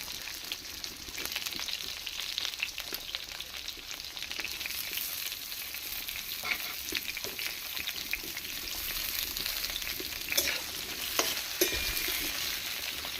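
Potatoes with salt and turmeric fry in a pan for a pulao, a continuous close sizzle with repeated scraping and clinking as they are stirred.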